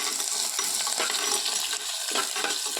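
Fish curry with garlic and ginger just added being stirred in a pan over a stove, a steady close sizzle of frying with scraping stir strokes throughout.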